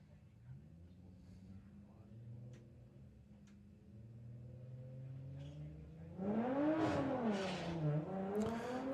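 Drag racing cars, an Audi TT against the Thunderbug, launching: a low engine drone and rumble builds, then rises into a loud climbing rev partway through, with a commentator's voice over it.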